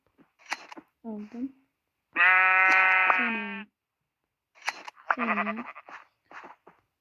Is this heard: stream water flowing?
no